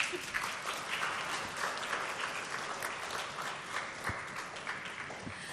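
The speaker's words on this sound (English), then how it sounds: "Let's give them a round of applause." Warm round of audience applause at an Ethos Books launch event, sustained and even for several seconds, moderately distant and filling the room without any voices over it.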